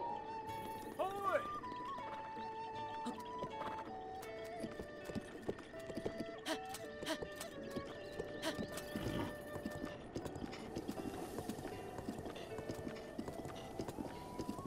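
In Zelda: Breath of the Wild, a horse whinnies once near the start, and then its hooves clip-clop steadily under light game music and effects.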